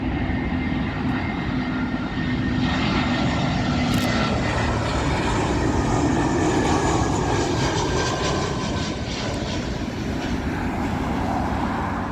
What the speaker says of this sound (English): FinnAir A320. This one coming in from Warsaw.